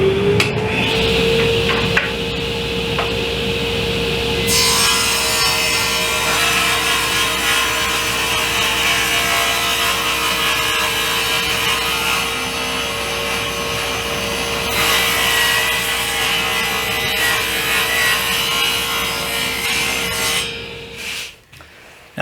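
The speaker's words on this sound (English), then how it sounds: "now I'm going to start ripping my stock to" A saw rips maple stock into 1.5-inch strips, giving a loud, steady motor whine with harsh cutting noise that swells as the blade bites into the wood and then winds down at the end.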